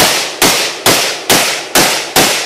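AK-47 rifle fired from the hip outdoors, six loud sharp shots spaced evenly about half a second apart, each with a sudden crack and a decaying tail, no talking.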